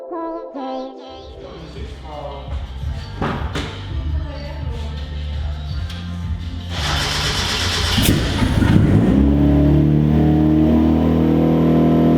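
A turbocharged Mazda Miata engine with new motor mounts cranks and turns over with a few thumps, then settles into a steady, rumbling idle that grows slightly louder and continues to the end.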